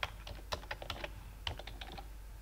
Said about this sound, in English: and we'll type in plan view.